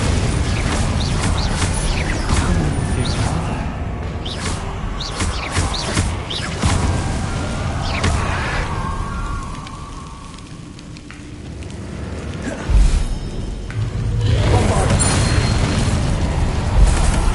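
Spell blasts and explosions from the Bombarda and Confringo attacks in a Hogwarts Legacy fight against Inferi, loud and dense with repeated booming impacts, crackling fire and rumbling debris that keep going throughout, with a short sharp burst near the end.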